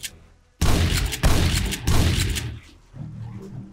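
Gunfire in the survival video game 7 Days To Die: a burst of loud, dense shots starts abruptly after a quiet moment and runs for about two seconds, with a short pause partway, then fades to quieter game noise.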